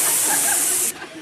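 A performer in an improv comedy scene imitates a paint sprayer with his voice, a loud, close, breathy hiss lasting under a second that cuts off abruptly.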